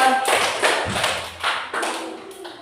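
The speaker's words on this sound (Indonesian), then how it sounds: "Oke, tepuk tangan untuk Diandra" Schoolchildren clap hands together during a floor gymnastics forward-roll class, a few loud, uneven claps and taps with thuds, near and fairly close, with faint voices mixed in.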